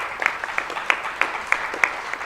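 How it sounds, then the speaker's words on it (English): Sparse, rhythmic clapping at an afternoon plenary and awards session, a handful of distinct claps spaced evenly over a couple of seconds, fairly faint, over a soft room background. "Let's clap hands for her"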